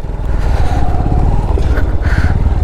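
A motorcycle engine labors loudly and close up while climbing a steep off-road hill trail at Ananthagiri Hills, its steady throaty drone rising slightly in pitch as it revs.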